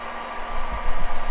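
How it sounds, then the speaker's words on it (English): A heat gun blows hot air from about two feet away to seal plastic wrap around homemade shower steamers, giving a steady, close hiss and hum with slight swells in level. "I have the heat gun, and then I go probably about 2 feet away, and then I turn it on"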